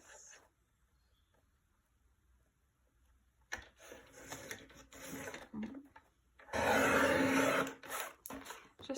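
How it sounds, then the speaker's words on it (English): A paper trimmer slices through card in a few short scraping strokes, quiet at first and then a louder, close swipe, against a near-silent background. "And then I'm just going to carefully trim it with my trimmer."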